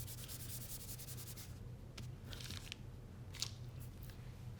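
An embossing buddy pouch is rubbed over cardstock with soft, continuous scuffing strokes, close and quiet, with a few brief brushing bursts standing out.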